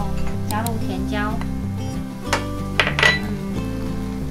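Bell peppers added to a ceramic-coated CB JAPAN COPAN pot and stirred during pork curry rice cooking, with a few light clinks and scrapes of a utensil against the pot beneath steady background music.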